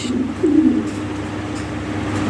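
A single soft, low coo from an imported European Toy Lahori Sirazi pigeon sounds close by over a steady background hum.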